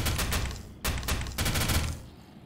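Rapid automatic gunfire from a weapon in the video game Garry's Mod, three loud bursts of fire with short gaps between them, then a sudden stop into near silence.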